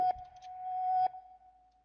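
A steady synth tone with a wobble effect, made in FL Studio, holds a single pitch for about a second, wavering slightly, then fades into a quiet lingering tail.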